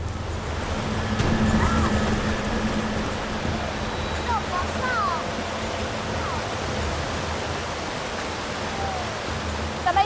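A strong river current rushing over large rocks at a rough crossing, a dense, steady roar of water close by, with faint voices and a few brief high tones over it.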